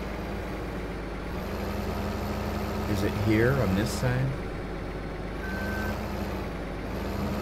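A pickup truck rolls along in Farming Simulator 15 with a steady engine drone, reversing beeps and a brief hiss mid-way, while a voice talks over it.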